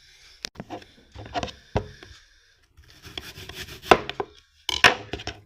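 An apple is cut with a knife on a small plate, giving several sharp crunching slices and scraping strokes in irregular bursts separated by short pauses, close and fairly loud with no talk.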